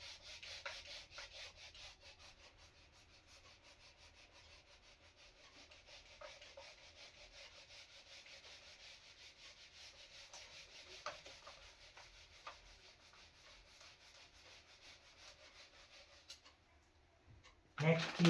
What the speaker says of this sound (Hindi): तो इसको रब करते हैं अब।